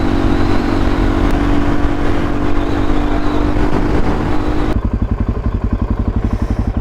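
A Suzuki DRZ motorcycle accelerates along a road, its engine loud and close with a steady drone, then dropping into a rapid pulsing exhaust beat as it shifts, with no talk.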